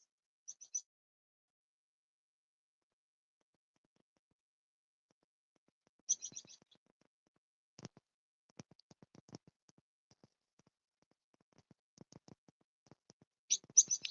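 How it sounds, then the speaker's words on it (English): A robin in a park gives faint, scattered high chirps and short phrases against a quiet background, with sparse soft ticking sounds between them. "I don't know if you can hear the birds. Here's a robin."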